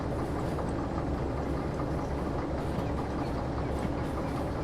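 A locomotive in Derail Valley strains to haul four heavy cars loaded with rails, about 228 tons, well over its rating. The engine drones steadily with a rumbling rail roll and faint clatter, loud and continuous throughout.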